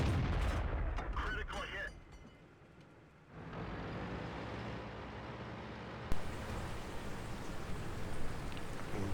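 A tank cannon fires at a T-30 in a tank combat game, heard as a sharp blast over steady engine rumble and battlefield noise, with another thump later on.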